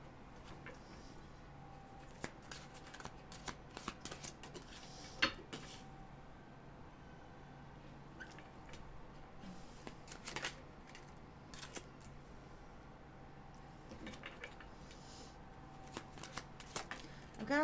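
Tarot cards are shuffled repeatedly at close range, crisp riffling bursts and soft slaps recurring every few seconds over a faint hum.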